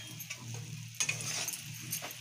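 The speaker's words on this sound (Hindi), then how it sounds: "मैं सारे मसाले को अच्छी तरह से भून लेती हूँ" Spices including Kashmiri red chili powder roast in a hot pan for a spiced bottle gourd nimona, giving a faint steady sizzle broken by soft stirring scrapes.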